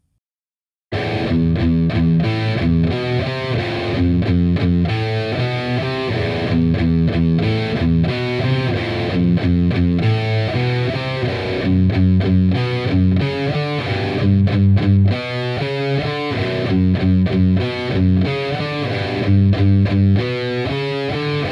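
A distorted electric guitar plays part of a song at a slow tempo, a dense run of palm-muted and picked notes, close and loud, continuing after a brief silent start, with no talking.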